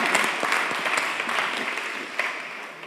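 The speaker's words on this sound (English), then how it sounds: "if you guys could all join me in a round of applause for our two really special guests" A fireside-chat audience claps for two guests in a moderate, steady round of applause with individual hand claps audible, fading slightly toward the end.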